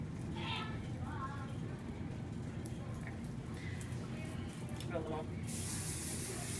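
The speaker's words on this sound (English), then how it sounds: "Spray it up." Faint voices murmur over a low background hum, then a sharp, steady hiss of hairspray sprayed on a child's hair bursts out loudly near the end.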